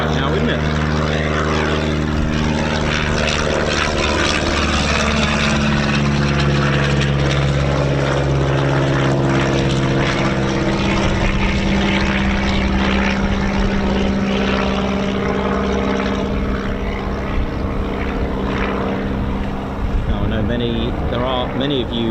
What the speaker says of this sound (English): Literally low flying aircraft right now, isn't it?